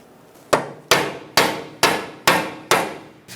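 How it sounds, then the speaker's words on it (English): Hammer peening over an inner tie rod washer on a 2002-2006 Honda CR-V: six sharp metallic strikes at a steady rhythm, each ringing briefly before the next, loud and close with no talking. "now we're going to peen over that washer"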